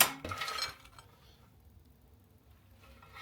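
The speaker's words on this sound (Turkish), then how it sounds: "Neyse patatesi de şöyle döktük abi bunun yanına." Fried potatoes tumble onto a plate beside other food in a short, clinking clatter. A hushed near-silence follows.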